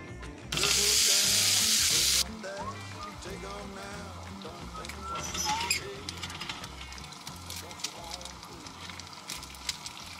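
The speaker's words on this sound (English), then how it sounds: "You guys excited for the sizzle?" Beef is cooked in a pan at a roadside stop. A loud burst of sizzle opens the scene, then frying crackles continue while voices talk over it.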